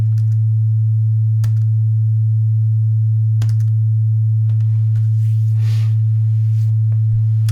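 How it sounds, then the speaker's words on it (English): A steady, loud pure sine tone at 110 Hz generated in Max, droning without change from start to finish while faint computer keyboard clicks and mouse taps sound underneath. "We can hear this sine wave. It's repeating itself 110 times per second."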